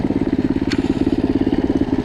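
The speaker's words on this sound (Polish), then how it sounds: "z wydechu słychać, że jest głośniejszy" Loncin 110/125 motorcycle engine being tested before a turbo fit, running steadily with a rapid, even exhaust pulse that sounds loud and close, with no talk over it.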